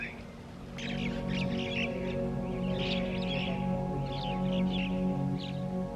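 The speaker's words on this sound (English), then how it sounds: "All you can hear are birds." Birds calling repeatedly at a marble mosque in Punjab at evening, short chirps and squawks scattered over a steady low hum of distant ambient noise.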